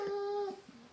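A dog whines in a high, thin, wavering tone for about half a second, then trails off into fainter whimpers, quiet and close.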